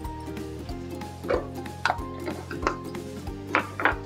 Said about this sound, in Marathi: ती पण ढवळून घेऊया.